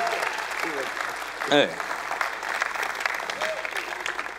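An audience at a Dutch television show claps in a steady burst of applause. A voice calls out briefly over the clapping.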